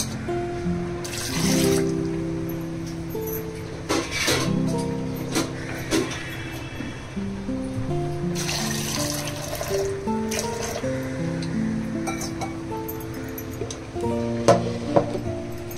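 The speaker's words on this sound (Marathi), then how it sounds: "त्याच्यात टाकूया पाणी" Water pours into a pressure cooker pot holding black cardamom, star anise, cloves and peppercorns, a gurgling, splashing fill with shifting pitch and a few clinks, close by and moderately quiet.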